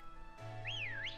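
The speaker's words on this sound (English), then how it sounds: "I'll whistle at you." A person whistles a short rising-and-falling note in a video game, soft and clear over a low electronic hum, with no talking.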